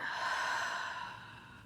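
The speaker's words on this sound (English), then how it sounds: "In through the nose, out through the mouth." A single slow breath exhaled through the mouth, soft and airy, close and quiet, fading gradually.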